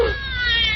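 In a vintage spooky radio drama, a cat meows over a telephone line, one short, loud, thin and tonal meow.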